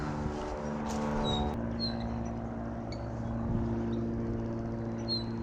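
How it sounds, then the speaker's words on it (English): Australian figbird giving scratchy, sharp whistled notes in short bursts, fairly faint at a distance over a steady low engine-like drone at a wetland. "that sort of scratchy whistling and carrying on is just the Australian fig bird"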